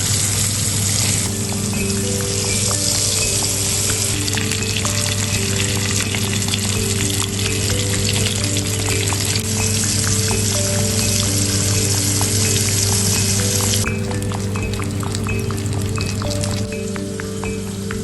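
River fish such as roach, bream and crucian carp fry in a pan with onion, giving a loud, steady sizzle and crackle that runs without a break. There is no speech.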